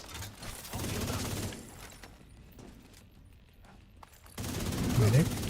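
Gunfire in a video game comes as a dense rattle of shots at the start, fades into quieter sounds in the middle, then returns loud near the end, with voices talking at times.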